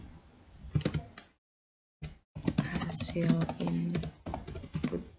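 Computer keyboard used to type a file name, rapid bursts of close key clicks broken by a brief silent gap, with a voice talking over part of it.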